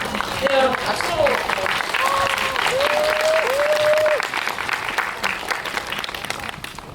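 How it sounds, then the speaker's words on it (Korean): An audience at a Busan International Film Festival community screening and Q&A for the 10th anniversary of the film The Shameless bursts into steady, dense applause lasting about four seconds before it tapers off, with a voice speaking over it. "여러분 박수로."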